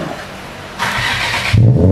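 An Infiniti G35 sedan with an exhaust that is loud at the rear starts up: a quiet lead-in, then a broad, rushing burst of engine noise, then a deeper, louder rumble as the engine catches and settles near the listener.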